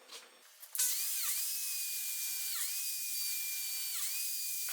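A Lamello biscuit joiner cuts slots in a wooden workbench part, starting after a brief click and running as a loud steady high whine, dipping briefly three times as it bites into the wood.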